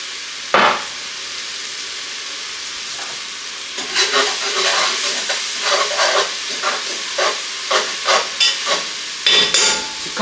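Onions sautéing with Worcestershire sauce in a pan, a loud close sizzle with a sharp hiss early on, then repeated rhythmic stirring scrapes over the frying.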